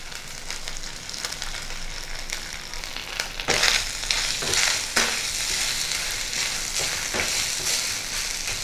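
Grated coconut frying in a pan for Bengali dudh shukto, a continuous close sizzle broken by several louder scraping stirs and clatters of the spatula, with no talking.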